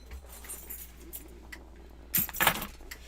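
Keys jangle briefly at a Magic: The Gathering Modern tournament table, a couple of close metallic clinking bursts over quiet room noise.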